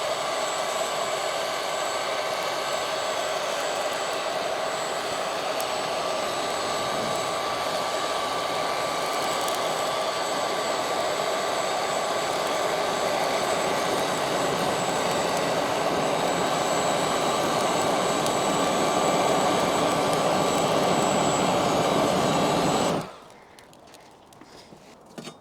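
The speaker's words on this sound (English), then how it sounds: "with our Luft lighter, we'll fire up our charcoal." A Looftlighter hot-air blower lighting charcoal in a Kamado Joe grill gives a loud, steady, close roaring whoosh for over twenty seconds, then cuts off abruptly, leaving near silence.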